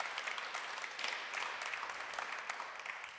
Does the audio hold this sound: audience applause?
yes